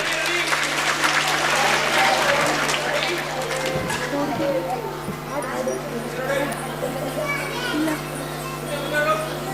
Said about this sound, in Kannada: ಜೋರಾಗಿ ಚಪ್ಪಾಳೆ ಕೊಡಿ.